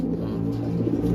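A racing pigeon coos softly and steadily, a low close warble held through the short moment with no other sounds.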